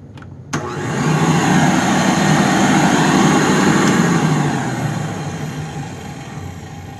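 A 1993 Rainbow D4C SE canister vacuum with worn bearings switches off after a sharp click, its loud motor whine and rough rumble slowly winding down and fading over several seconds.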